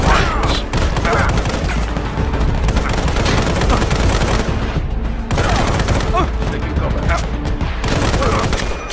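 Assault rifle gunfire in a Gameloft mobile shooter rattles in dense, continuous bursts for the whole stretch, loud and close, with thuds and explosions mixed into the barrage.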